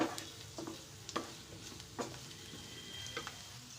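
Chopped potatoes for aloo methi curry stirred in a hot pan, a faint sizzle under a few soft scraping spoon strokes spaced about a second apart, quiet and close, no voices.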